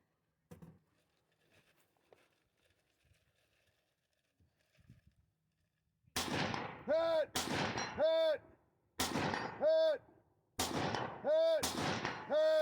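Loud gunshots at a Vortex Shootout 2023 shooting competition, four heavy booming shots spaced about a second apart after a quiet stretch with faint movement noises.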